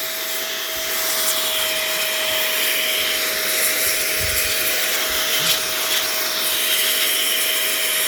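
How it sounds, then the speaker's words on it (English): A cool-air blower runs at level 3, drying a replica belt, with a steady loud whooshing roar and a constant whine that never changes. "It's just a machine that has air and it's cold air."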